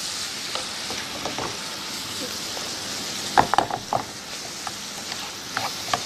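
Apples being stirred in a frying pan as crepe filling, a steady sizzle with occasional scraping clatters of a utensil against the pan, close and moderate.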